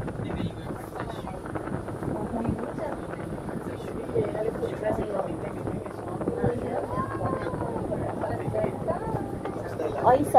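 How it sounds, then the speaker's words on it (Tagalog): Gusty wind buffets the microphone in a steady low rumble while riding the Tung Chung cable car in Hong Kong, with voices talking throughout. "Uy, mahangin na."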